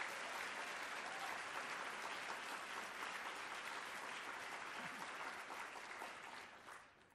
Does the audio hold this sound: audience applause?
yes